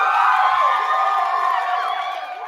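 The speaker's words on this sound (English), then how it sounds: "Round of applause. Round of applause" A crowd whoops and cheers in a round of applause for Trevor Beggs, a bright, sustained roar of voices that holds steady and then tapers slightly toward the end.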